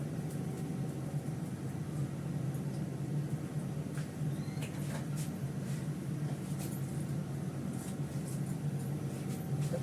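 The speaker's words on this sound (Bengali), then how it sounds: "সাদা তেল দিয়ে দিই, আলুটা ভেজে নিই।" Potatoes frying in white oil give a steady, even sizzle with faint crackles throughout, over a low constant hum.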